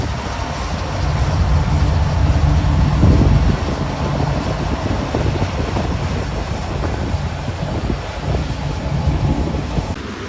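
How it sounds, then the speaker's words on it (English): Union Pacific empty coal train rolling past at close range, a steady broad rumble with rail clatter and wind buffeting the microphone throughout, slightly louder early on. "this UP empty coal train spawned out of thin air"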